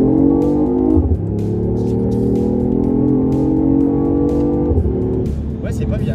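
A BMW i8 hybrid sports car accelerates hard at full throttle from low speed, its engine note climbing through gears with two audible upshifts, loud and close inside the cabin.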